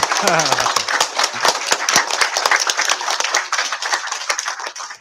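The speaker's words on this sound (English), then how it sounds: "Come on, clap your hands, everybody." An elementary school audience claps hands during a visit, dense, continuous applause filling the space, with a voice speaking briefly at the start.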